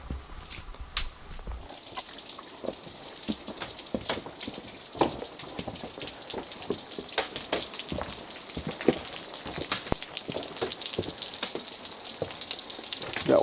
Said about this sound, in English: Got water coming off the whole ledge there